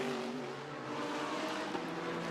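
GT race cars, an Aston Martin and a Porsche, run along a straight at Brands Hatch; their engines make a faint, steady, slightly wavering whine heard from a distance.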